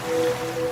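A short burst of steady rushing wash like surf, with a faint thin tone running through it.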